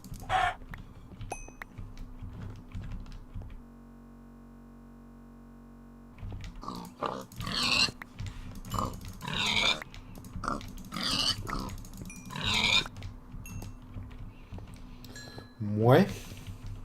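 Pigs grunt in the block-building game Sky Defender, a few short snorts heard near the end while someone talks over scattered game sounds.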